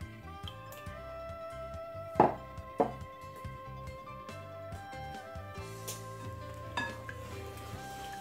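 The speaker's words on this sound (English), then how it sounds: "So make sure you mix this very well." Corn cake batter with egg and sugar is mixed in a mixing bowl, giving soft scraping with a couple of sharp utensil clinks against the bowl under steady background music.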